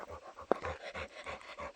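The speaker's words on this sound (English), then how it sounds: "Hiking, we meet dogs. Really friendly ones." Friendly village dogs met on a hike near Krasnaya Polyana, Sochi, pant close by in quick, steady rhythmic breaths, with one sharp louder huff partway through.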